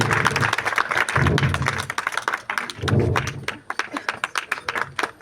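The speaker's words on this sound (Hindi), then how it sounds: "जोरदार ताली होना चाहिए।" An audience claps at a Dr. Bhimrao Ambedkar Jayanti celebration, with bursts of applause and scattered hand taps that rise and fade in waves, some thumps mixed in.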